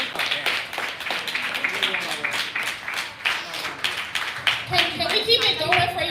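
Clapping crowd at a community policy and organizing summit held at the Bronx Defenders headquarters, with fairly brisk hand claps in a room that rise and ease off while a voice speaks over them toward the end.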